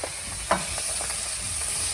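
Food sizzles steadily in a pan over a clay stove, a low continuous frying hiss with a few brief stirring clatters, close and moderately quiet, no voices.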